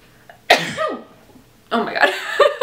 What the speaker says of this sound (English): oh my God, I sneeze